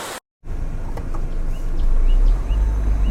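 Water falls down a rocky hillside beside a road, a dense, steady rushing roar that starts after a brief silent gap and swells slightly, with faint bird chirps above it.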